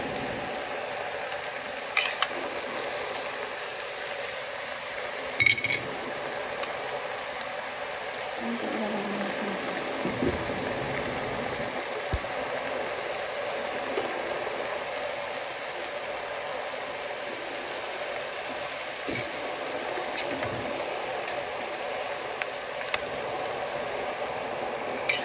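Fish fries in a pan for a lunch of fried fish and cabbage, a continuous close sizzle and crackle with a few faint clinks of utensils scattered through it.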